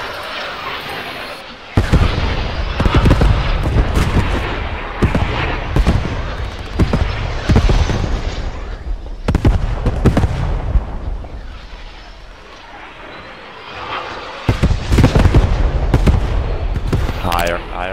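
Panzerwerfer 42 rocket barrage striking a church in a game: repeated loud blasts and booming impacts in bursts, with voices talking over the explosions throughout.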